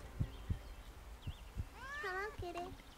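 A cat in the video game Little Misfortune gives a couple of drawn-out meows, heard after a few soft thumping footsteps, faint and fairly close against quiet background hiss.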